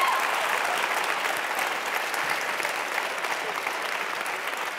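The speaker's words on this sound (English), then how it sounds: "let's give an even bigger round of applause for Cecile" A seated audience at an evening meeting applauds steadily, a dense, even wash of clapping that holds at a constant level throughout with no voices over it.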